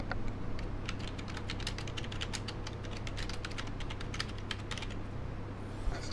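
Typing on a computer keyboard while filling in a subscribe-button form, a rapid, steady stream of close, crisp key clicks running continuously over a low background hum.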